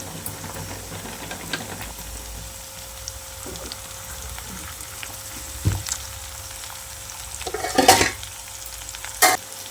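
Onions with a little salt fry quietly in a pan and are stirred now and then, a soft steady sizzle broken by a few brief scraping stirs near the end.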